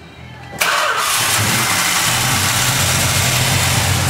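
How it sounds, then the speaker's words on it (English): A 1970 Dodge Challenger R/T convertible with its factory exhaust cranks and catches about half a second in, then settles into a loud, steady, deep idle rumble that continues to the end with no talking. "start this beautiful Challenger up and let you hear that great factory rumble"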